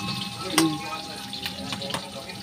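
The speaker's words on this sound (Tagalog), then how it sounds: "Ayan, gisa-gisa na tayo guys." Garlic, onion and annatto sauté in a pan with a steady, moderate sizzle and a few sharp utensil clinks, up close, while someone talks at times.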